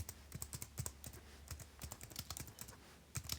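Rapid keystrokes on a computer keyboard as a title is entered, irregular clicks with brief pauses, close and moderately quiet over a low steady hum.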